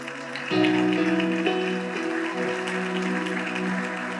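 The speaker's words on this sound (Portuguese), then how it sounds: "Pode aplaudir, irmãos." A church congregation claps together during a worship service, a dense, steady patter of applause under sustained keyboard chords that swell in just after the start and carry on throughout.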